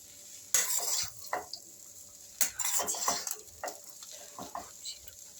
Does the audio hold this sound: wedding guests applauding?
no